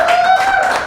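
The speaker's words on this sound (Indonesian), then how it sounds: "Bah, tepuk tangan dulu." Brief, loud burst of hand clapping from a small group in a room, lasting about a second.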